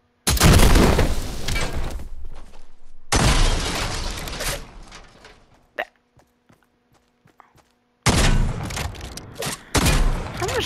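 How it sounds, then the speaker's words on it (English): A siege cannon fires in a video game, producing loud booming blasts in long roaring bursts separated by a sharp crack and stretches of near silence, close and forceful. "so you got the siege cannon"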